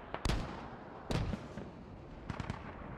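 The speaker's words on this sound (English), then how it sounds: "We've got more mortars down on the center." Mortar shells burst during a Squad military shooter game match, three sharp explosive cracks spaced about a second apart with short rumbling tails under steady background noise.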